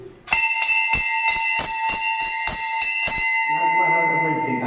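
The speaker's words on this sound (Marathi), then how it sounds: "नाथ महाराजांचा इथे घंटा बांधलेला आहे।" A temple bell in a Kanifnath shrine's assembly hall struck about eight times in a steady rhythm, each ring bright and sustained with long overlapping decay, loud and close, followed by a fading hum with background voices.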